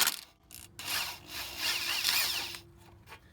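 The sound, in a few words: 10mm socket removing ABS wire bracket on strut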